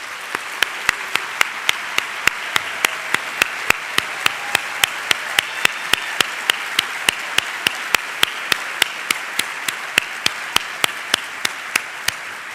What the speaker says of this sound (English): I ask that all staff in attendance please stand and that the audience join me in a round of applause for their contributions